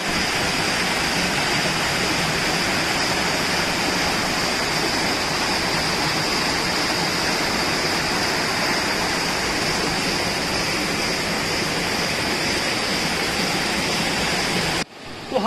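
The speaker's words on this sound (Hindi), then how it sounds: "वहां पे एक बड़ा खूबसूरत ये झरना हम लोग देख सकते हैं" A waterfall roars at the confluence of the Gandaki and Somvati rivers near Champawat: a loud, steady, broadband rush of falling water that continues unbroken, then cuts off abruptly just before the end.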